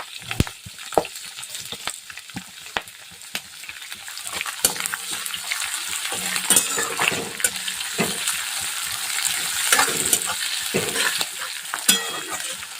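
Green chillies fry in oil in a pan for kande pohe, giving a steady crackling sizzle that grows louder and denser partway through, dotted with sharp pops and occasional utensil taps, close by and without talk.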